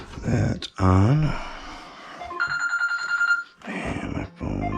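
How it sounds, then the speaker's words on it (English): A phone rings with a bright electronic ringtone in a home where a furnace has a plugged orifice, a steady repeating tone heard between stretches of someone talking. "And my phone just drives me nuts."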